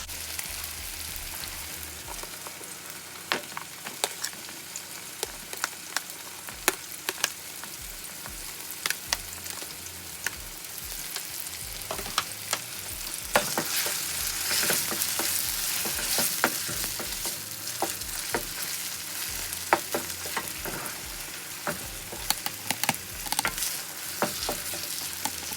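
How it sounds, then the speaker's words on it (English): Chopped onion sizzles steadily in a pan for chicken fried rice, a dense continuous fry with scattered crackles and spatula scrapes, growing louder midway as the pan heats and is stirred. "So now I'm gonna add my onion into this."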